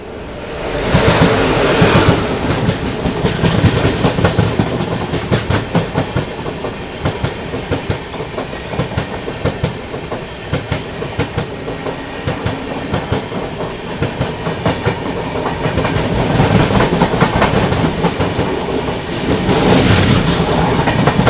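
The Mandovi Express, hauled by a WAG-9 locomotive, rolls along loudly with steady rhythmic clickety-clack of wheels over rail joints and rumbling carriage noise, heard from on board for the whole stretch.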